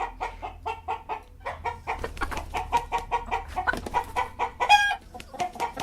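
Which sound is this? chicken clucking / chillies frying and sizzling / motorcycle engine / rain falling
chicken clucking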